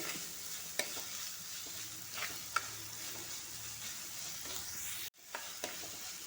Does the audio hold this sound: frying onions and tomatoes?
yes